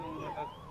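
An ambulance siren wailing at a plane crash site, a brief rising and falling electronic tone heard at moderate distance.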